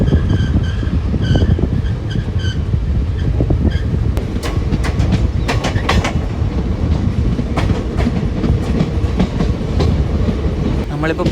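A train runs along the railway near the Pakistan border between Bathinda and Shri Ganganagar, heard from on board as a loud continuous rumble with rhythmic clickety-clack of wheels over rail joints and occasional metallic clanks.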